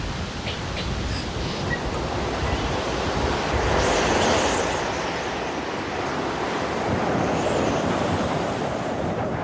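Strong gusty wind of the Roaring Forties on the New Zealand coast, a steady broad roar with surging swells of gust and surf-like wash throughout, loud and continuous with no voices.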